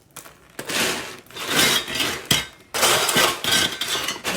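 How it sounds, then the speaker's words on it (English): Cooled dark chocolate peppermint popcorn is stirred and handled, giving bursts of crisp, rustling crunches close up in several irregular waves with brief pauses between them. "now you can hear the little crunch of my popcorn better"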